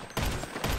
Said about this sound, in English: Did I shoot you or what?